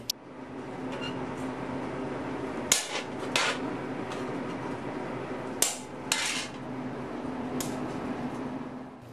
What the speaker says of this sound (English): I just want to drive the chisel into about half the thickness of the sheet metal